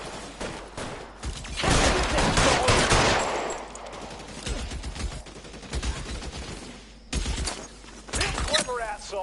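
Rapid bursts of gunfire in L.A. Noire, a dense fusillade in the first few seconds followed by scattered shots with short pauses, and voices speaking between them.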